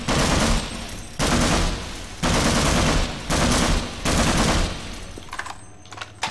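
Automatic gunfire in Half-Life: Source comes in about five loud, sustained bursts roughly a second long, each followed by a short pause, ending with a few fainter trailing sounds.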